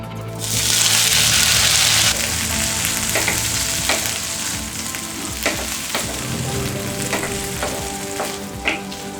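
Frozen corn sizzling as it hits melted butter in a hot pan, a loud initial burst of frying that settles into a steady sizzle with occasional stirring clicks.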